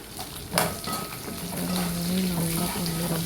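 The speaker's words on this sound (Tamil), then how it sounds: "நல்லா பொன்னிறமாக நல்லா வதக்கிக்கோங்க." Small onions sizzling steadily in a frying pan for a Tamil sardine curry, with a stirring clatter near the start and a continuous close hiss throughout.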